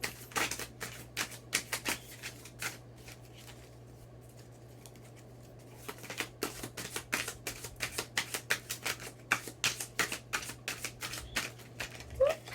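Tarot cards are shuffled and drawn, producing rapid dry flicking and tapping bursts in irregular runs, with a short quieter pause midway, over a low steady hum.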